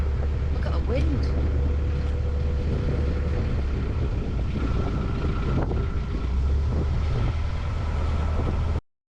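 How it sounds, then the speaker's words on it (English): Strong wind buffets the microphone beside a narrowboat moored on a UK canal, a loud continuous rumble with gusts and brief voices underneath. "Wow, it's windy."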